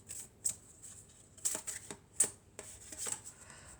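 Tarot cards being handled and drawn from a deck, several soft crisp snaps and slides of card against card, close and quiet with irregular spacing.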